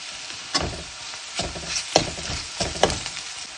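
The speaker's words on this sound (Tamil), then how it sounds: "இந்த அளவுக்கு வதங்கினதுக்கப்புறம் நம்ம இதில் வந்து இஞ்சி பூண்டு விழுது சேர்த்துடலாம்." Onions with ginger-garlic paste fry in a pan for a ridge gourd masala curry, with a spoon scraping through in several distinct strokes over a steady background sizzle, close and clear, with no talking.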